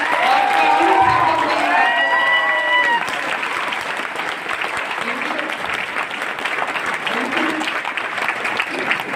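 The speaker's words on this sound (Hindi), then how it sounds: "मैं चाहूंगा एक जोरदार और शानदार तालियां" A seminar crowd at a wellness business success-story event breaks into strong, sustained applause, loud at first and then settling into a steady roar, with a voice talking over the start.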